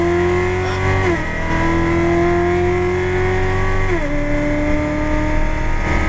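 Chevrolet Corvette C7 Z06 pulling hard at full throttle on a race track, a loud, close engine note climbing steadily through two quick upshifts, heard from inside the car with no talk.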